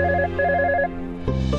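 An electronic phone ringtone plays a short repeating melodic pattern, loud and close, with no voices.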